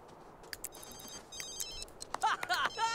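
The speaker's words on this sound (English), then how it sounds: "Okay, ignore the phone call." Telephone in The Sims 3 rings with bright electronic tones, faint trills early on building to a louder, clearer ringing burst near the end of the three seconds.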